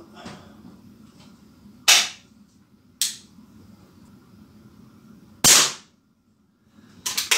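Air pistol firing lead pellets during target practice, three sharp, loud, snapping shots spaced a second or more apart, with a fourth crack at the end over quiet room tone.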